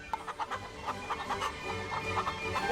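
Several chickens clucking in quick, irregular bursts, a busy farmyard chorus at moderate distance with no talking.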